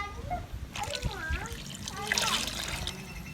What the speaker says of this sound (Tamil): இப்போ இந்த தண்ணி ஊற்றிருக்கேன்